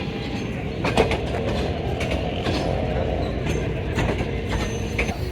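Shalimar Express passenger train running on rails, a steady loud rumble of wheels with faint rhythmic clanks and rattles inside a moving carriage.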